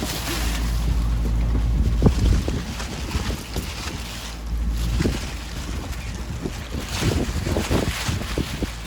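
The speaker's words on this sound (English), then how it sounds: "What you hear is my rain poncho rattling in the wind." Gusty wind buffets the microphone steadily, with a rain poncho flapping and rattling in bursts throughout during a rough sail out of an inlet.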